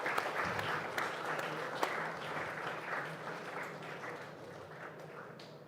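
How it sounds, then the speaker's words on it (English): An audience at a sustainability event applauds a government minister, with steady, moderately quiet clapping from a crowd and a few sharper claps standing out, gradually thinning toward the end. "Another round of applause as the Minister makes his way to the front."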